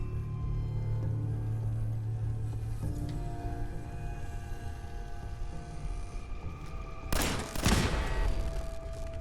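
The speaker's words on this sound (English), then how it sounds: "There's a turret." An automated turret in Fallout 4 opens fire in a short, loud burst near the end, after a stretch of low ambient game hum.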